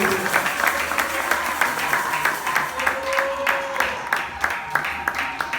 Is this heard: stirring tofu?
no